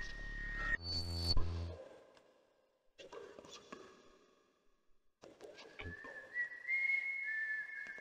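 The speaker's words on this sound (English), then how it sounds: "Someone's whistling out there." A thin, wavering whistle drifts in from a distance in the video game Dark Fall: The Journal, with pauses between the phrases and other sounds scattered around.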